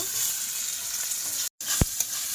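Five-spice seeds and chopped tomato frying in a pan: a steady, close sizzle with a couple of sharp clinks near the end and a short gap of silence. No talking.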